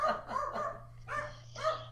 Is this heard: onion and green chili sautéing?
no